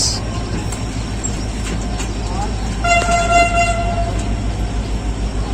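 Millat Express train pulling out of Bahawalpur station, with a steady rumble of rolling carriages, a horn-like toot sounding midway, and voices murmuring in the background.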